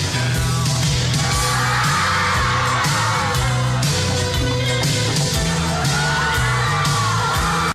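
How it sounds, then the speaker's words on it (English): Crowds screaming on amusement park rides such as the Wave Jammer fill a film scene with loud, continuous yells and whoops layered over a dense background roar. "all those screams are people on amazing rides, like the Wave Jammer"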